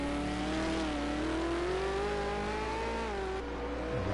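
A V8 Supercar race car at Long Beach in a racing game holds a loud, steady engine note that climbs in pitch as it accelerates through a bend, then eases off briefly near the end.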